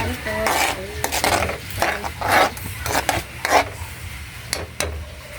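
Miswa noodles stirred in a cooking pot for breakfast, with repeated scraping and clinking strokes of a utensil over a steady, soft sizzle.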